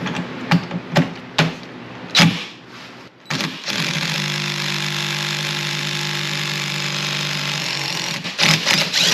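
An impact gun whirs and rattles in a long burst while removing a steering wheel bolt, preceded by several short sharp bursts and knocks, loud and close.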